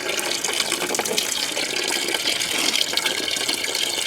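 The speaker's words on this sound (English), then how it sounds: "You can see the plug's out, it's draining. Turning the antifreeze out of it." Steady, close rush of antifreeze draining from a Kubota L2250 tractor engine with the plug out, a continuous liquid gush with no talking.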